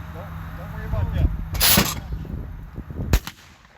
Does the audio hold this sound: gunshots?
yes